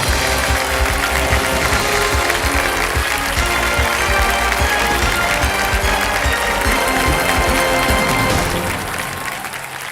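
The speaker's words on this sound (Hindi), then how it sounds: "तालियां बज जाए इनके लिए।" A television game show studio audience breaks into sustained, dense applause, many hands clapping steadily and loudly before it tapers off at the end.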